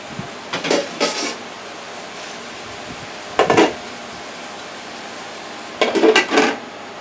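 A metal lid set over a stir-fry pan of broccoli and plums makes three separate clattering contacts, close and fairly loud, with quiet gaps between them.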